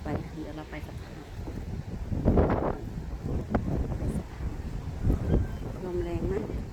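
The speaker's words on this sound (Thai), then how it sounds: "ลมแรงมาก" Strong gusts of wind buffet the microphone at a cold seaside, rising and falling in rough bursts while people talk nearby.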